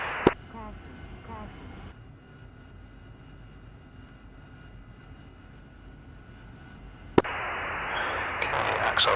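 The jet engine of an AV-8B Harrier in the DCS flight simulator spools up, a steady turbine hum with a hiss that swells louder near the end, broken by two sharp clicks, while someone talks.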